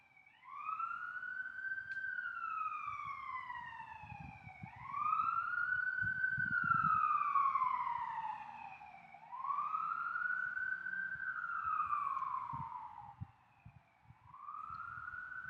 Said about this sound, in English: Just let the sirens go by.